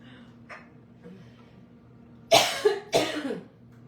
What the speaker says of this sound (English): I just coughed and that microphone's right there.